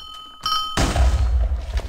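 Custom TNT detonates in Minecraft with a sudden loud blast that rolls into a sustained low rumble, preceded by brief chimes from the game.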